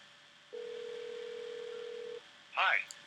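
A Phone Burner dialer places a call, sounding a single steady ringback tone for about a second and a half, then a voice speaks briefly, faint and thin as if through a phone line.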